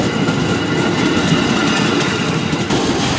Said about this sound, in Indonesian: Kereta belang nih teman-teman.